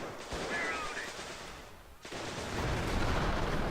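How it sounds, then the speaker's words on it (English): Gunfire and a bazooka blast in Company of Heroes, a World War II strategy game set in Europe: dense, continuous battle noise with rattling shots and booms, a brief lull midway, then louder firing. "Nice use of the bazooka right"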